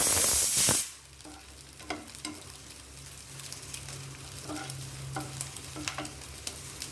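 Ingredients frying and being stirred in a pan until browned, a loud sizzle at first that drops to a quieter crackle with scattered scraping and stirring clicks, close up and without talk.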